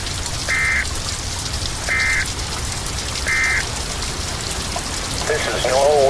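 Heavy rain pours steadily through a severe storm in St. Louis, Missouri, a dense hiss of drops hitting surfaces, with faint repeated tones and a brief warble rising over it near the end.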